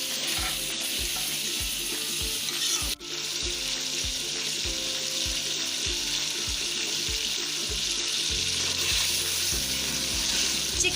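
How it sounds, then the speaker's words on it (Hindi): Chicken sizzles and fries in a pan for aloo gosht with peas, stirred steadily so a rhythmic scraping repeats under the constant hiss of frying, loud and close with no talk. "तक मिक्स करेंगे जब तक चिकन का कलर चेंज नहीं हो जाता।"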